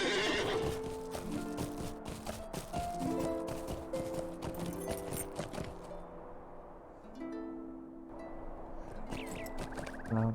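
A horse in the Lord of the Rings Online video game whinnies repeatedly while its hooves clip-clop in a steady rhythm, close and clear, over ambient game sound.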